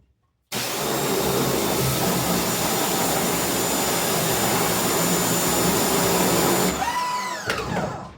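A strong water spray blasts emulsion out of a printing screen in a loud, continuous hiss that starts abruptly and runs for several seconds before cutting off, followed by a few faint clatters.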